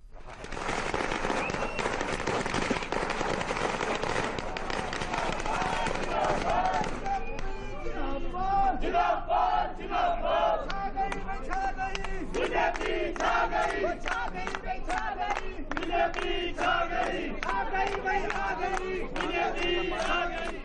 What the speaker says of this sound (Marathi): मिठाई वाटत कार्यकर्ते मोठ्या संख्येनं कार्यालयांबाहेर जल्लोष करताना दिसले।